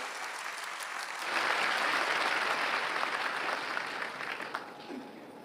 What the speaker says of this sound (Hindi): जी बहुत जोरदार तालियां इनके लिए।